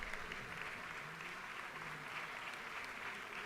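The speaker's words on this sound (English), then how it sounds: "please rise so we can give you a round of applause" Applause rises from members and onlookers in a state legislative chamber, the Georgia House, welcoming a guest standing in the gallery; a steady, fairly faint wash of clapping runs unbroken throughout.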